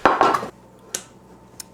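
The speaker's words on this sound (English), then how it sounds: "I have these 2 mini loaf pans that I'm gonna put them in" Blocks of tofu clatter into two mini metal loaf pans: a cluster of quick clanks and scrapes up front, then two sharp isolated taps spaced apart, close and fairly loud with no talking.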